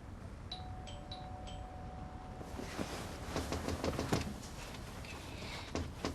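A front doorbell chimes indoors, a few clear electronic tones at the start, followed by rustling movement and faint background noise.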